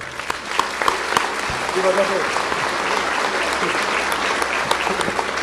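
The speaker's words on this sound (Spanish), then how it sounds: "Y se trata del Padre Luis Eduardo Toro, a quien le damos aplausos fuertes." Loud, dense audience applause fills the hall at a Catholic parish talk in Cinco Esquinas, steady clapping throughout with scattered sharper claps and a few voices mixed in.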